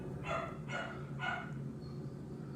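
Three quick barks from pet dogs, fairly faint and set back in a room with a steady hum underneath.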